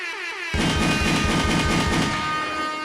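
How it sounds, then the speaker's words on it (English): A gunshot sound effect drops into a hip-hop beat, a loud burst hitting at once and then sustaining over a dense, rhythmic instrumental with repeating punchy low hits. "Yo, bust a gunshot, man."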